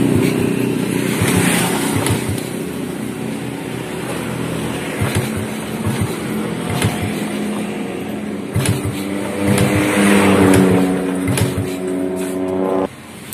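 A motorcycle engine cranked repeatedly gives a low mechanical churning with uneven thumps, close and steady, rising into a brief droning hum near the end.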